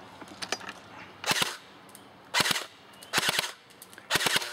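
An airsoft gun fires BBs outdoors into the bushes of a tree in four quick bursts of sharp, crackling pops, each volley a rapid cluster of shots, close and loud with brief quiet gaps between.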